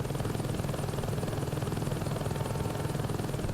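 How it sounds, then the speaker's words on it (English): A helicopter flies in the video game Saints Row 2, its steady rotor chop thumping continuously and loudly throughout, with no talking. "I'm pretty used to flying the helicopter"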